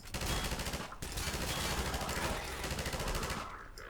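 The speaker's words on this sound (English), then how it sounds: "I'm just running fully automatic fucking suppressive fire." Sustained automatic gunfire in the video game Half-Life 2, a loud continuous stream of rapid shots with a brief break near the start and a fading tail.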